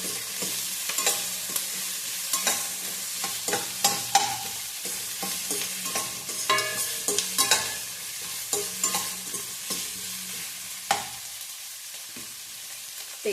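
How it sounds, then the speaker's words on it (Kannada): Leftover idli pieces for idli manchurian frying in a pan, with a steady close sizzle and repeated sharp scraping and stirring clatters of the spatula at an uneven rhythm. "ಇದು ಸ್ವಲ್ಪ ಫ್ರೈ ಆಗಬೇಕು."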